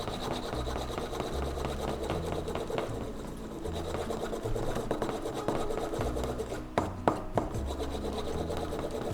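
Steady rubbing of a tool along a leather edge during burnishing, a continuous close-up friction sound with a low droning undertone and a few sharper scuffs near the end, no talking.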